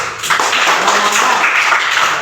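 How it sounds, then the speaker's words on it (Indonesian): Classroom applause before a group presentation, a dense wash of many hands clapping at once, loud and steady for a couple of seconds, with a voice faintly mixed in. "kita beri tepuk tangan dulu"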